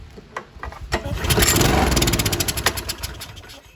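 A 2011 Toro Personal Pace lawn mower engine with a blade clutch starts and runs unevenly after carburetor work, a close rough mechanical roar that rises, holds briefly and then begins to fade.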